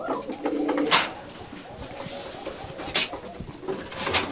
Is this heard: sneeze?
no